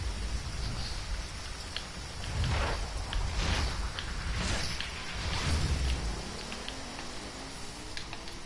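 Steady rain hiss from a racing video game on what seems a snow track, a continuous wash with faint ticking drops and a few soft swells, no talk over it.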